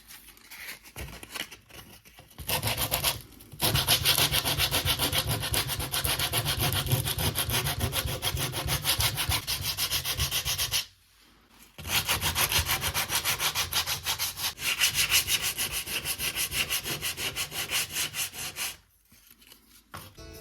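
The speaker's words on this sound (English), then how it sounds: "once I finished sanding down all of the glue that was on the cabinet from the previous handles" Steady, continuous sanding of old glue off a wood cabinet, a rough scratchy rubbing that runs in long stretches with two brief pauses, loud and close.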